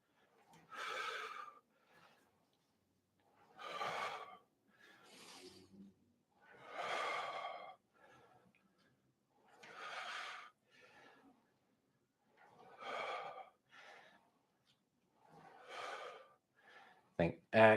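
Forceful breathy exhales come in a regular rhythm with pauses between them, close and clear, as someone works through lat rows in a full-body Pilates workout.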